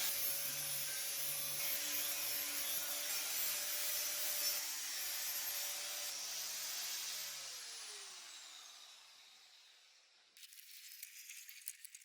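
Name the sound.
angle grinder with flat disc cleaning rusty wheelbarrow wheel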